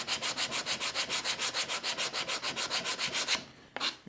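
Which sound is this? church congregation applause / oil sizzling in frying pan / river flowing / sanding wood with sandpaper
sanding wood with sandpaper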